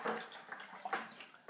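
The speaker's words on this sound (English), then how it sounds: "give that brush another swish around, swirling it" A paint brush swished and swirled around in a container of dirty rinse water while being cleaned, giving a soft, close, watery sloshing that comes in short uneven bursts with no talking.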